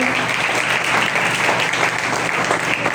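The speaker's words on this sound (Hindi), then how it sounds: "जोरदार तालियां बजाएं" A congregation at a church service claps loudly and continuously, a dense roar of hands from a large crowd filling the room throughout.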